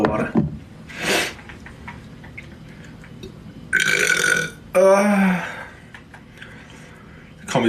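Several loud burps from a young gamer during a live stream, with a long drawn-out belch near the middle and shorter eructations spaced through the clip, close and alone without talk.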